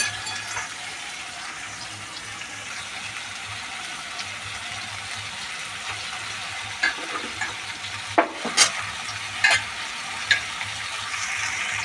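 Chicken with a full mix of spices cooks in a pan, giving a constant close sizzle, with scraping and clinking from stirring that grows busier toward the end.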